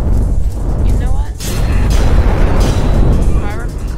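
Firework explosion in a PS2 video game, a loud, dense booming burst that fills the whole clip with rumbling crackle, while players talk over it.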